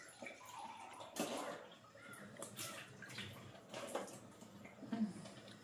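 Tap water running in a home kitchen while payasam is being made, a steady gurgling splash with a few louder bursts, heard close up and mostly alone.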